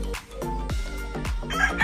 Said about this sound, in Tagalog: Ingay ng mga manok na alaga ng kapatid ko.